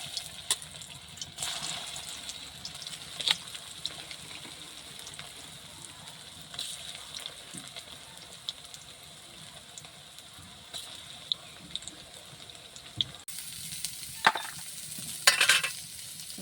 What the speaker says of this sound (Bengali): সুন্দর করে পেঁয়াজগুলো লাল করে ভেজে তুলে নেব